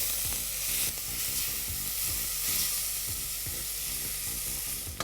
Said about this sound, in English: Let's stir this and cook this till the onions turn golden brown in color.